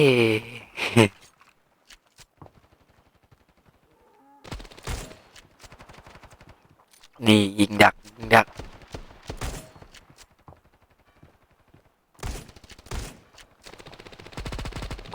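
Gunfire in the mobile shooter Standoff 2 comes in several sharp, loud bursts spaced across the stretch, with quieter gaps between them and a voice speaking at times.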